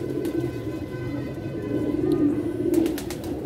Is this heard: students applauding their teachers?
no